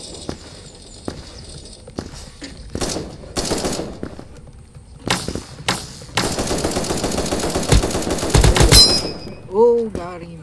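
Gunfire in the browser shooter game Krunker.io: sharp single shots, then a long, loud automatic burst. A brief vocal sound comes at the very end.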